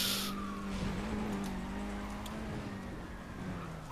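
Racing cars in the video game Need for Speed World, with a steady engine drone that stays loud throughout and a sharp hiss at the start.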